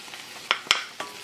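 A spoon stirs tamarind, jaggery and grated coconut into cooked red capsicum in a pan that has just come off the heat, with a few soft scrapes and light clicks, close and quiet, without speech.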